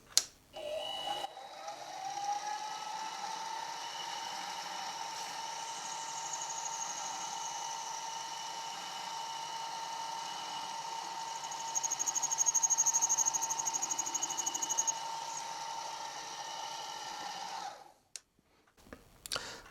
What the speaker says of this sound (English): And finally in with the 1/2 inch reamer.